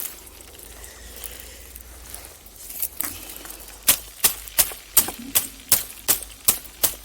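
Dried sesame bundles, cut after summer sowing, rustle softly before a run of sharp, evenly spaced taps and crackles as seeds pour out during threshing outdoors, fairly close.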